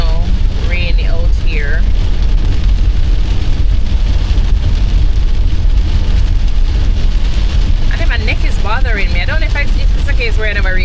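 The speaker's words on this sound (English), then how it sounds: "it's very, very, you know, rainy out here" Steady rain on a stormy, overcast day, a dense, even hiss that runs the whole time at a fairly loud level, with a person talking over it near the start and again toward the end.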